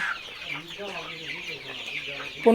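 Layer and broiler chickens cluck softly at a poultry seller's stall, including small chicks about ten days old. A steady faint clucking runs through the moment and ends with a sharper, louder chirp.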